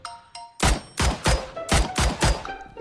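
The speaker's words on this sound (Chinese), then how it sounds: "这边有枪声，我要来劝劝架。" Bursts of gunfire from a PUBG battle royale match, about seven sharp, loud shots fired in an uneven rapid sequence with short gaps between them.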